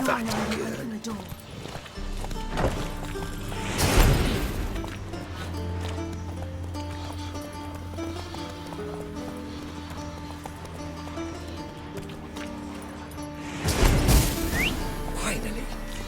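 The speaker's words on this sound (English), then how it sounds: "Gotta calm the horses before they wake the guards." Horses in a stable in The Witcher 3 give two loud whinnying, snorting bursts several seconds apart, with faint hoof stamping and ambient game noise beneath, while characters talk over it.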